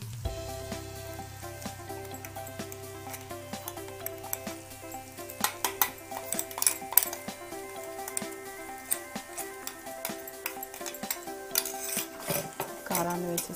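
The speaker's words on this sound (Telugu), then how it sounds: "కారాన్ని వేసేసి ఒకసారి బాగా కలపండి" A spoon works chili powder into okra fry in a pan, giving close scraping and clinking against the metal over a faint sizzle, with a low hum at the start and irregular stirring bursts throughout.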